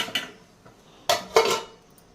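Metal lid set onto a cooking pan of semolina sweet, a light clatter followed by two sharper clanks close by, with no talk.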